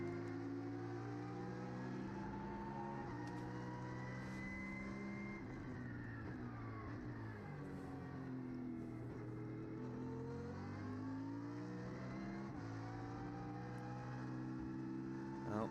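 A BMW race car's engine revs and shifts on a circuit in Valencia during a winter series round, rising and falling pitch sweeps as it accelerates and passes, heard steadily at moderate distance.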